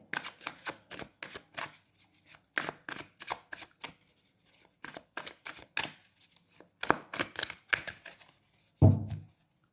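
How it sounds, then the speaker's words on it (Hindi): Tarot cards being shuffled by hand in a steady run of crisp riffling bursts, close and clear with no talking, ending in a louder soft thump. "शफल करते ही कार्ड्स गिनना शुरू हो गए"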